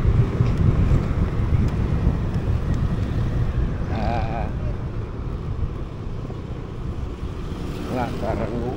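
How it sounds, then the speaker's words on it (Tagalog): Strong, cool wind at Subic in the Philippines buffets the microphone in a continuous low roar, steady and loud throughout with no break. "Lakas na ng hangin"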